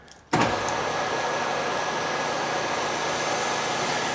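A 7.5 horsepower Endless Pool Elite pump motor switches on with a sudden onset, then holds a loud, steady electric whirring hum with a faint high whine, continuous and alone.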